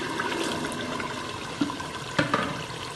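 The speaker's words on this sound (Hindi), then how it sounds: "अब हम इसमें बॉयल किए हुए ये बीन्स डाल देंगे।" Boiled red kidney beans poured into fried masala in a cooking pan, making a soft, wet splashing and sizzling wash with a couple of brief thuds near the end, close and moderate in volume.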